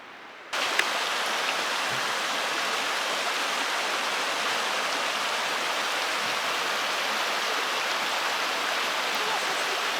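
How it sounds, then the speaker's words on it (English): A river flows below a walking trail near Cerro del Hierro, a steady broad rushing wash that starts abruptly and holds constant and loud throughout, no talking. "And then you have this nice river down."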